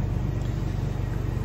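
A 2001 Chevrolet S-10 ZR2 pickup with the 4.3 Vortec engine runs at a steady idle in a cold building, giving a low, even rumble with regular pulsing and no talk.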